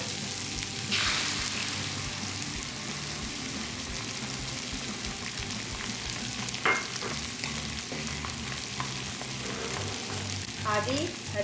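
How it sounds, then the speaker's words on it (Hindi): Egg frying with vegetables and cabbage in a pan for egg fried rice, a continuous loud sizzle with occasional stirring scrapes and spatters, close and steady throughout. "वेजिटेबल्स को फ्राई को करके अब मैं यहाँ पे इसमें एग शामिल करूँगी।"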